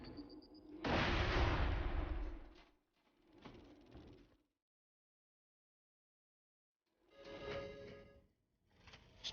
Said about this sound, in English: Then I get hit by a grenade.